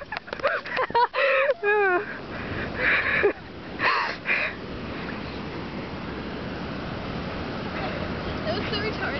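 A seagull on a beach calls in several sharp cries while being chased, mixed with excited voices, followed by steady wind and surf noise.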